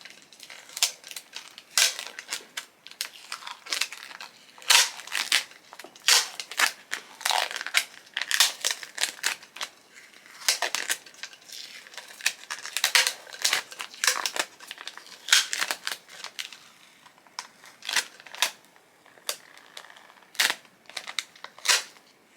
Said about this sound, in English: And you're just going to peel it off.